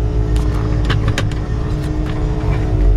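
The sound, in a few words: 1968 Chevelle engine running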